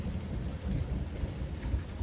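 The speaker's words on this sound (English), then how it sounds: "Started raining here about 30-40 minutes ago." Steady rain falling outdoors in Gibson Springs, with a low rumble of distant thunder underneath, a continuous soft wash of noise with no talk.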